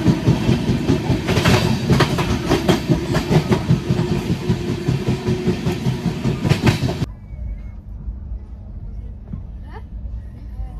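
The Amravati Express rolls into Vijayawada station in heavy rain, its wheels clattering in a steady rhythm for several seconds before the noise drops abruptly to a quieter hum with faint background sounds.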